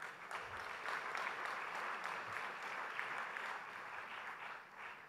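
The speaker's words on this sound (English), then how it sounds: "a loud round of applause is in order for the 18th year of" An audience at the FICCI Frames event breaks into steady, continuous applause, a soft, distant wash of many hands clapping for several seconds.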